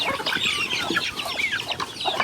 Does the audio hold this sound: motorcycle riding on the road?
no